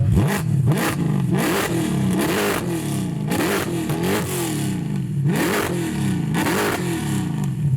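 Mercedes C63 AMG Black Series engine revved repeatedly with its valved exhaust opened, loud close blips rising and falling in quick succession with crackling bursts between them.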